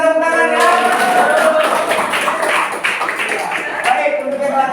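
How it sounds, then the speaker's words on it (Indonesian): A classroom of students gives a short burst of applause for a girl's correct answer, the clapping loud and close with voices mixed in. "betul untuk Putri, berikan tepuk tangan ya"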